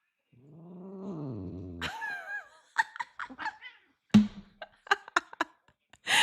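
A pet cat growls low and steady, then breaks into several short, sharp yowls and hisses close by, with brief pauses between bursts; no one speaks.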